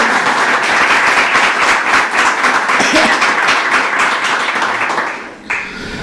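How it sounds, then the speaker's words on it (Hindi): A church congregation claps loudly during a sermon, steady dense applause filling most of the clip before fading out near the end. "अरे जोरदार तालियां बजाएं।"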